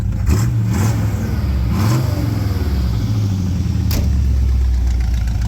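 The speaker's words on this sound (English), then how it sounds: "this thing's got the heart of a 68 Camaro. It sounds awesome" A 1955 Willys Wagon fitted with a 1968 Camaro engine revs several times, its deep exhaust note rising and falling in short bursts over a steady idle, close and loud.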